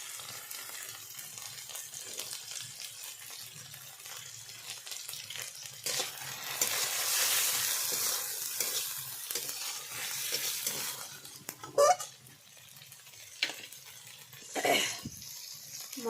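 Spices with chili powder frying and being stirred in a pan for a spicy sea-fish curry of kajal fish, a steady sizzle with scraping stirs that swells in the middle and a few sharp spatula knocks near the end.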